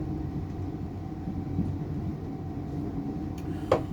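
Steady low rumble of an XPT passenger train running from Sydney to Casino, heard from inside the carriage as a continuous drone, with a brief rattle near the end.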